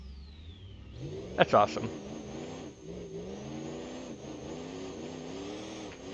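In the BeamNG.Drive game, a twin-turbo car engine revs with a whistling turbo whine and a blow-off pew. Someone speaks briefly over the steady engine drone.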